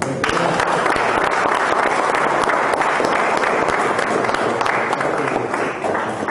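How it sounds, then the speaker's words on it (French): Continuous applause fills the room at a Brazilian jiu-jitsu belt grading ceremony at Maccabi Nice, a loud, dense crowd clapping without pause for over six seconds. "Alors on peut l'applaudir."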